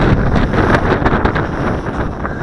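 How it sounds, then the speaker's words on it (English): Strong wind on a windy day during an outdoor flight of a Xinxun X50 drone, a loud continuous roaring buffet across the microphone with constant rumbling gusts and no talking. "Extreme wind."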